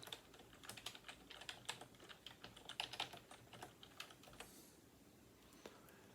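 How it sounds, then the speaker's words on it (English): Keys on a computer keyboard are tapped in a quick, uneven run of light clicks, fairly quiet and close, easing off toward the end, with no speech. "go up to the YouTube search bar and type in"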